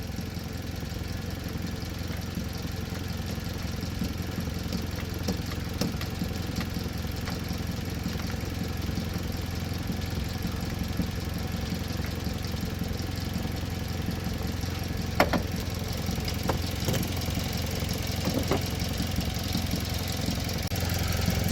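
A car engine runs steadily at raised idle in a workshop while the automated clutch actuator is adjusted, giving a continuous mechanical drone with faint ticks and clunks, no clear revving.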